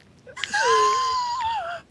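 A voice imitates slow, heavy breathing with one long, drawn-out, wheezing, moaning exhale, close and loud, held steady for over a second before trailing off.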